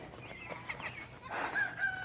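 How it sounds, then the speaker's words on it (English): A rooster crows once on a small farm with chickens, turkeys and goats, a short, faint call rising at the end, heard at a distance against quiet outdoor background. "Yeah, Rooster."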